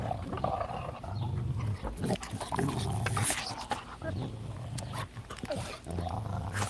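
Dogs at a wolf project growl and snarl loudly and continuously up close, with overlapping rough vocalizations throughout.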